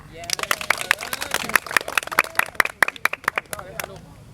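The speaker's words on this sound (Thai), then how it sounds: "ตบมือตบมือหน่อย" A small group claps hands during an introduction of relay sprint team athletes, giving brisk, uneven, sharp claps that pile up close by for a few seconds, with voices underneath.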